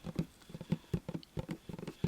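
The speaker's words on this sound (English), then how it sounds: "I love fingerpad tapping." Soft fingerpad tapping for ASMR forms quick, irregular light pats, close and quiet, clustered in small bursts like patter of rain, with no voices.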